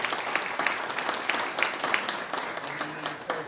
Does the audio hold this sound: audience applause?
yes